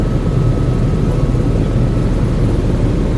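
A helicopter's engine and rotor drone in a loud, steady, low rumble that fills the whole stretch without a break, on a sightseeing flight at Niagara Falls.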